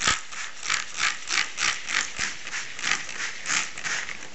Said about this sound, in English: I'm giving the paper a good soaking with water using this spray bottle